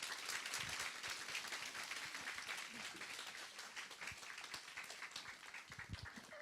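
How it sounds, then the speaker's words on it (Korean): A church congregation at a Vancouver testimony gathering applauds to welcome a speaker: steady, dense clapping from many hands fills the room throughout, fairly distant and even. "우리 신혜라 집사님 박수로 환영하면서 우리 하나님 말씀 함께 나누겠습니다."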